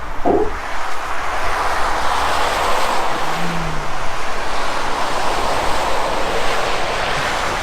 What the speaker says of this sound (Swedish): Den fattigaste handbromssvängen.